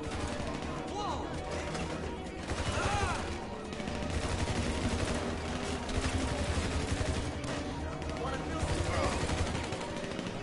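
Bullpup rifle gunfire in GTA Online, with rapid bursts of shots popping over a dense game soundscape while a voice talks at times.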